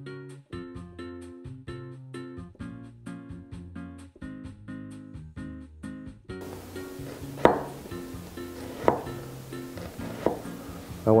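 A knife cuts onions into julienne strips on a board, a few distinct sharp chops spaced a second or so apart, heard under steady background music.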